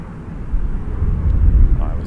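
A departing airliner at Toronto Pearson Airport rolls out as a loud, deep, swelling rumble that builds steadily over a couple of seconds, with voices present alongside.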